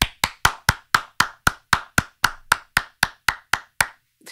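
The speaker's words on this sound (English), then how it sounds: "how many times can you clap your hands in 8 seconds?" Hands clapping alone in a steady run of about sixteen sharp, evenly spaced claps, close and crisp, slowing and fading slightly at the end.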